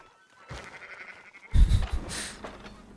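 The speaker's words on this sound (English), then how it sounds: "Fine sheep." Sheep bleating in the Red Dead Redemption 2 game world, one short call followed by a louder, longer bleat over low rumbling ambience.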